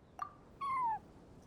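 A cat meowing in the video game Genshin Impact: a short chirp followed by a longer, clear, downward-sliding meow, close and alone over faint background.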